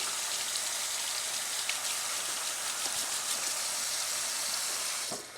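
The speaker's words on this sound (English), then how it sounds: "Take hot water, as hot as you can, and just keep rinsing your spatula." Steady hot running water splashes continuously over a greasy spatula, a broad hissy spray with faint droplet patter, ending abruptly as the flow shuts off.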